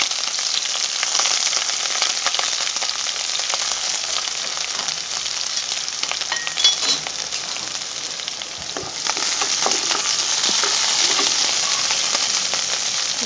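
Onions and curry leaves sauté in a pan, giving a dense, continuous hiss of frying oil close up, with faint scattered pops and no voices.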